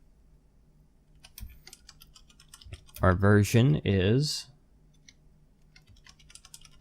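Soft clicking of computer keyboard keys as code is typed for a Minecraft mod, faint and scattered, with a voice briefly speaking over the middle.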